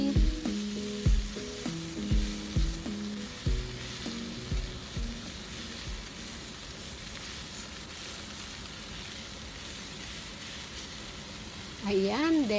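Spinach leaves are stir-fried in a pan, a steady sizzle under repeated scraping and clanking of a utensil that later gives way to softer, continuous frying.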